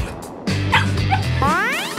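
A dog yelps and whines in short, high-pitched bursts, close by, with a rising whimper at the end over a low steady hum.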